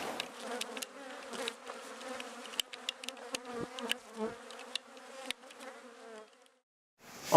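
Many honeybees buzz densely around a hive, a layered droning hum with individual insects passing close, fading out near the end.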